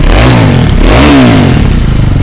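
A second-hand Harley-Davidson Street 750 motorcycle engine revs loud and close, rising and falling in pitch over a couple of seconds with mechanical clatter.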